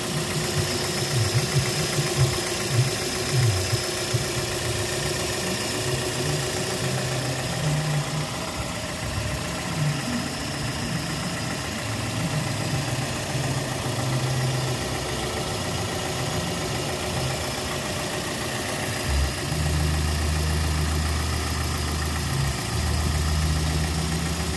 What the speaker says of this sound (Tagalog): Pero ayan yung engine niya.